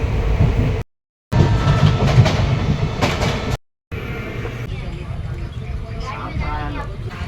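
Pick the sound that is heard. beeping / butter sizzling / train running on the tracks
train running on the tracks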